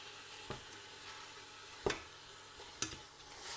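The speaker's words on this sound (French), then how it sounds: "je vais faire mijoter les morceaux de viande quelques minutes" Pieces of meat browning in a pan for Moroccan couscous, a faint low sizzle with three or four soft utensil clicks and scrapes spaced apart, no talking.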